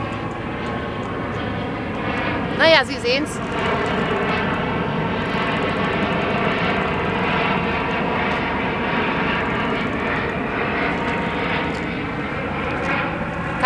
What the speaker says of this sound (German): hier kommt jetzt auch gleich ein Flugzeug